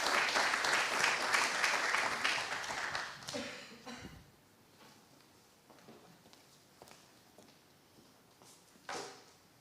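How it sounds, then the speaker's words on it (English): Loud audience applause fills an awards ceremony for an affordable nutrition scale-up challenge, then dies away after about four seconds into a quiet hall with faint shuffles and one brief later bump. "A big round of applause with Gold Protein."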